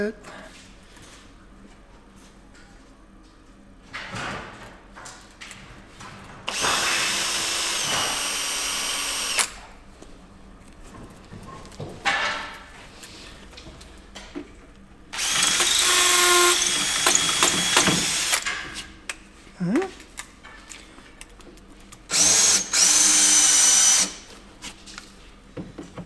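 A power drill bores into a concrete block in three separate loud bursts of grinding whine, each several seconds long, with quiet pauses and shuffling between them.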